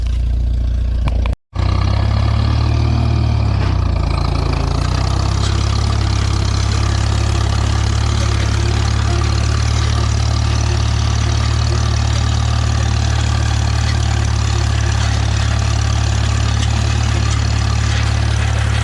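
A tractor engine running on a farm during a potato digger rebuild, a loud, steady low idling drone that starts up after a brief cutout and then holds even and continuous.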